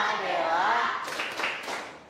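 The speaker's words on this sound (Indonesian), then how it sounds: "kita berikan tepuk salut untuk Dela" Schoolchildren in a classroom break into a rhythmic 'tepuk salut' clapping cheer, a run of sharp, loud claps that follows a stretch of talking voices and is mixed in with them.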